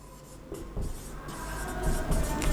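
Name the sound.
writing on a board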